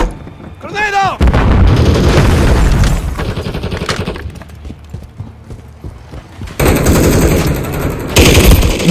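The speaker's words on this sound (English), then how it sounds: "Throw a grenade. Grenade out." Gunfire and explosions from the video game Modern Warfare 3 in a team deathmatch, with loud bursts, rapid shots and a heavy blast late on, plus brief in-game chatter and effects.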